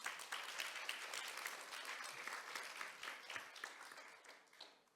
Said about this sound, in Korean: 지금까지 지역별 실험과 또 교훈을 공유해 주신 세 분의 패널 분께 좀 큰 박수 한번